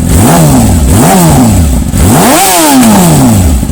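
A 2018 Yamaha R6 motorcycle with a loud aftermarket exhaust revs hard several times in quick succession, each blip rising and falling, close and very loud.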